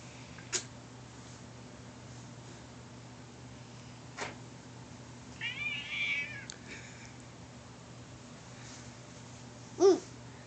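A cat meows softly a few times in a quiet indoor room, the short cries rising from a low hum, with one louder, sharper yowl near the end.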